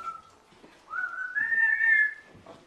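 A bird gives one rising, tonal whistle about a second long at moderate volume, close by, in a quiet animal sanctuary setting.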